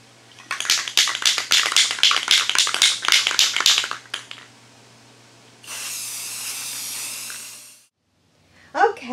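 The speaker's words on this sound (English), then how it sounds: "now I'm going to just spray paint some little cutout stars that I purchased" Spray paint hisses from an aerosol can onto small purchased cutout stars in a sustained burst of several seconds, alongside closer tapping and handling clatter.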